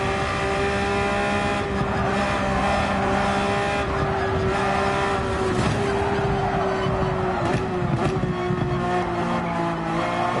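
A Porsche 911 race car circles Yas Marina Circuit with a loud, steady engine drone that rises and falls through gear changes and braking, close and continuous with no talk.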